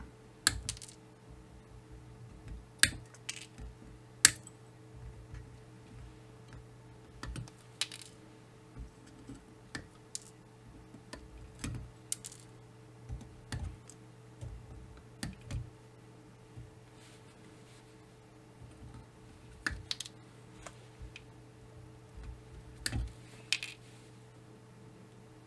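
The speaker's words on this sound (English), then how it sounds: "Now at this stage it would make sense to snip off all the excess leads, so I'm just going to start trimming them now." Small cutters snip excess component leads on a stripboard circuit, giving sharp, close, isolated clicks at irregular intervals over a quiet background hum.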